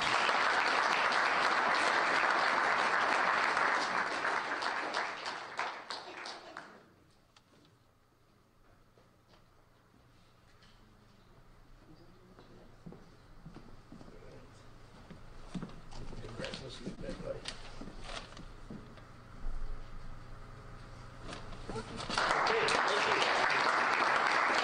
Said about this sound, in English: let's give another huge round of applause to all of tonight's participants